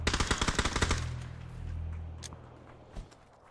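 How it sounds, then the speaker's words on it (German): A rapid burst of automatic gunfire in PUBG opens close and loud, then stops abruptly, leaving a low rumble and a single faint distant shot. "Wer hat aus der Ferne geschossen?"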